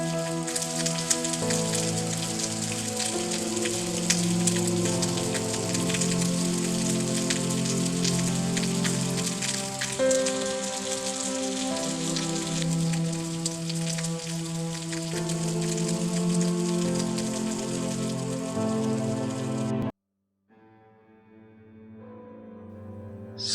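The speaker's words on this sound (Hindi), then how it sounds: "रात के 2 बज रहे हैं और बाहर बारिश लगी हुई है" Rain pours down outside at night in Murree, a dense, steady patter and hiss of drops on surfaces that carries on for about twenty seconds, then drops abruptly to near silence.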